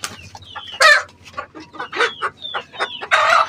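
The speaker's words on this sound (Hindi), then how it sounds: "इसमें जो है मुर्गी है उसके हम निकलवाएंगे अंडे" Egyptian chickens cluck and squawk up close in short, choppy bursts, with a few louder shrill cries breaking through.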